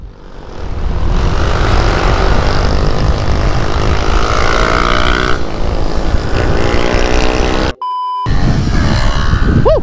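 Motorcycle engines roaring loudly and steadily during a group ride of about 30 motovloggers heading to Kaybiang Tunnel, with a sustained drone and a brief electronic beep near the end before engine noise resumes.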